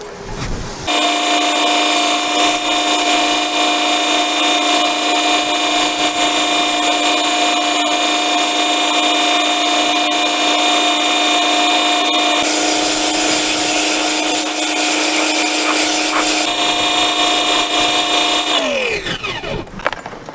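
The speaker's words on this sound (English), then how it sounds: "that's literally moss there growing, and it is quite tough to get off usually, but with the pressure washer" A loud, continuous pressure washer blasting moss off a sailboat's non-slip deck, holding a steady high-pitched whine and hiss for nearly twenty seconds before the motor winds down and cuts off.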